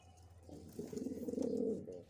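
A pigeon in a loft gives a single rising, throaty coo that swells and fades, close and alone over a low background hum.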